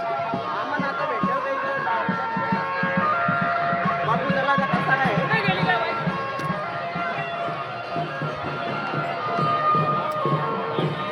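Busy crowd bustle at a village fair during an aarti, a constant hubbub of many voices and footsteps close around, with nearby talk over the top throughout.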